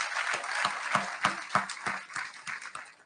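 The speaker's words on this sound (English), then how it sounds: "Can I get a round of applause for the Southwest Greenway?" A crowd outdoors at the groundbreaking for a centennial park claps, a light, fairly sparse round of applause with distinct individual claps, moderately distant.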